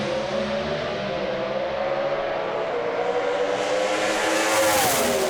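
Pro Stock drag race cars at East Coast Thunder in Sydney roar down the track, a loud, sustained engine howl that holds steady and swells slightly near the end.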